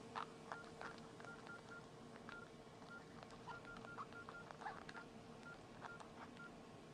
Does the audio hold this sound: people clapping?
no